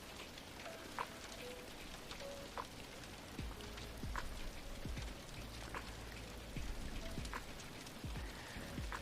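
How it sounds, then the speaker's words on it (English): Rain falls steadily but faintly, a dense patter with scattered distinct drops and a few louder drips, and no voices. "More rain."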